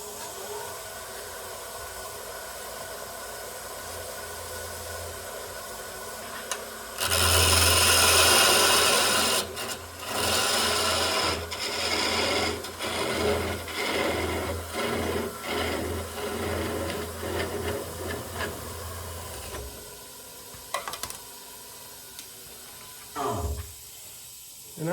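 A wooden tool handle of padauk spins on a lathe while top coat finish is pressed against it, heard as close rubbing and rasping hiss in uneven bursts over the steady motor hum, then a quiet stretch with a few knocks.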